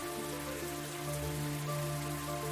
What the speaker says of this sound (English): The weather had turned for the worse and it began to rain.